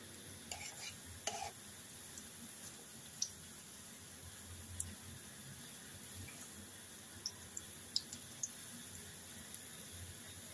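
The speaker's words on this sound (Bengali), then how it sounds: "এক এক করে গজাগুলো আমি উল্টে দেবো আর লাল করে ভেজে নেব।" Goja sweets frying in oil over low heat and being turned one by one with a spatula: a constant soft sizzle runs throughout, broken by scattered clicks and scrapes of the spatula.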